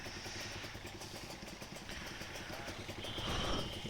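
A two-stroke Kawasaki Ninja RR 150 motorcycle idles steadily at night while warming up, giving a faint, even, buzzing putter with a slight swell near the end.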